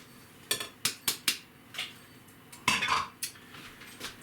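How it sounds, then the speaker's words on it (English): A spoon scrapes and clanks against a bowl while mixing a lasagna cheese filling with grated Parmesan, a series of sharp metallic knocks, several close together and then a few spaced taps, with no talk. "And we just mix this up real good, and that's our filler."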